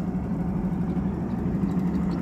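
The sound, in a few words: fishing boat engine running on a river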